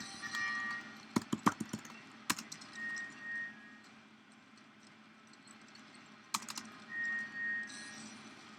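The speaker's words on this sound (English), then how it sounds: "If you hear me double click on my keyboard," Typing on a computer keyboard, with scattered sharp clicks including quick double clicks, then a couple of louder clusters of key strikes, close and fairly quiet against a faint steady background hum.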